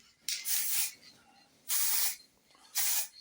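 Three separate bursts of spray paint hiss from an aerosol can, each under a second long and fairly close, with quiet gaps between them and no talking.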